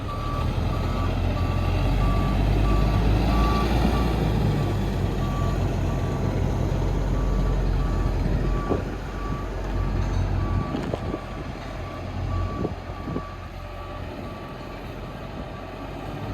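A bus reverses into a depot shed, its reversing alarm beeping steadily and evenly over the continuous low rumble of the engine, close and loud with a few clanks near the end.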